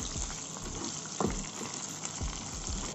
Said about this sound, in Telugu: తాలింపులు వేగుతున్నాయి కదా